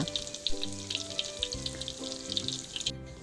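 Sliced bananas deep-frying in hot oil over medium heat, a continuous crackling sizzle with a steady tonal background underneath, close and moderate in level.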